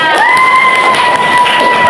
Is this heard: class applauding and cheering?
yes